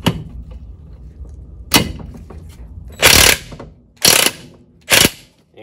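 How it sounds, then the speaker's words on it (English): A Craftsman impact wrench works on a Mercruiser Alpha outdrive lower unit, firing three loud, rattling bursts of roughly half a second each, spaced about a second apart. They come after quieter mechanical clunks. "I'm using my Craftsman impact wrench and I'm going to apply some friendly jolts."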